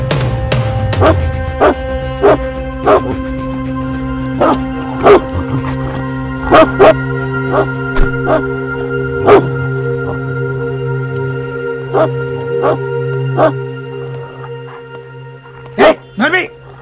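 A dog barks again and again, loud and close, in sharp separate bursts spread unevenly through the scene, with a quick double bark near the end.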